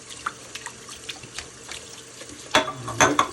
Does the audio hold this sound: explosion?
no